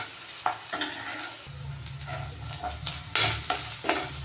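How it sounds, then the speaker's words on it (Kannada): Ginger garlic paste fries in a pan on a gas stove over low flame, a soft continuous sizzle with intermittent stirring scrapes and clinks. "ಅಲ್ಲಿ ತನಕ ಇದನ್ನು ಸಿಮ್ಮಲ್ಲಿ ಇಟ್ಕೊಂಡು ಗ್ಯಾಸ್ನ ಫ್ರೈ ಮಾಡಬೇಕು"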